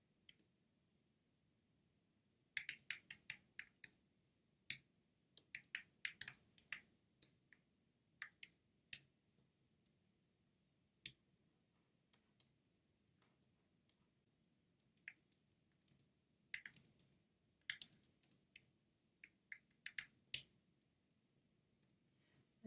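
Keys clatter on a computer keyboard while someone types into a website form, with irregular bursts of light clicks separated by short pauses, close and quiet with no talking.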